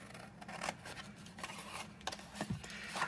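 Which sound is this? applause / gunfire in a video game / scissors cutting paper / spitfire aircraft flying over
scissors cutting paper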